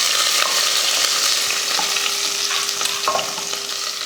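Crushed garlic cloves frying in hot oil with mustard seeds, curry leaves and dried red chillies, giving a loud, continuous, crackling sizzle close by with scattered small pops.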